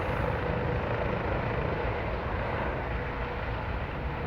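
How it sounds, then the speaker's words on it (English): A Life Flight medical helicopter takes off from VCU, producing a loud, steady broadband rotor and engine roar that holds without breaks throughout. "Life Flight's taking off from the VCU."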